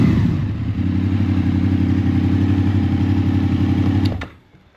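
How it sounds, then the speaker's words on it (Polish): A Honda VFR800 VTEC motorcycle engine runs steadily through its exhausts, a loud, close, even idle burble with deep low pulses that holds for about four seconds and then stops abruptly, leaving near silence. "Na tych wydechach ten motocykl brzmi rewelacyjnie."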